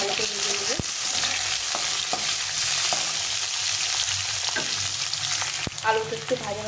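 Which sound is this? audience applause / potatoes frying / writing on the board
potatoes frying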